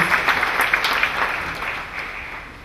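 A church congregation at a deliverance service claps together, a steady wash of applause that slowly fades.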